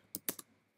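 Code being typed on a computer keyboard, three quick close key clicks in a brief uneven burst, crisp and alone in a quiet room.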